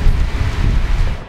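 Wind buffets the microphone in a heavy downpour on an island on Thailand's biggest lake near Songkhla, a loud, steady roaring rush with no talking.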